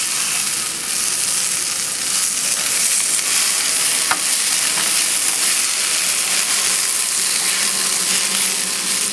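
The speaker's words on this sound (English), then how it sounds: "Now once I add the liquid," Beef tips and onions sizzling loudly in a pan after liquid is poured in, a dense steady hiss of frying and steam with occasional soft stirring clicks.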